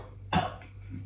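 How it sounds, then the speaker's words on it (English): A single sharp cough provoked by the pungent, vinegar-like smell of defective olive oil during a tasting, short and close with a quiet room behind it. "it makes you cough like vinegar, doesn't it?"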